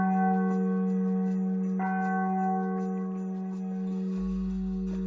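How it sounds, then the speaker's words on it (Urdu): A historic bell installed in 1908 on the Carriage and Wagon Workshop building at Mughalpura, once used to signal workers' recess, rings with a sustained, resonant tone that swells and decays, close and alone with no talk. "carriage and vegan work shop Mughal پورہ کی عمارت پر ایک گھنٹی لگی ہوئی تھی"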